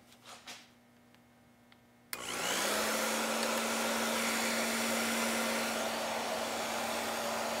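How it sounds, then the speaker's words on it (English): A hair dryer switches on with a click and runs loudly and steadily at about 715 watts, a constant blowing whoosh with a humming motor tone. "Got the wife's nice purple hair dryer."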